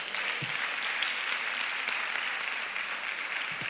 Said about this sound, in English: So another round of applause for the men.